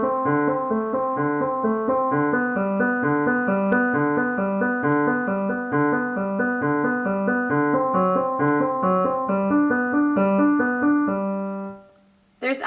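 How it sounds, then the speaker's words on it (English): Solo piano plays a steady Alberti bass figure of broken chords in a Czerny study, even and unbroken for about eleven seconds before stopping. "The name for this type is Alberti bass."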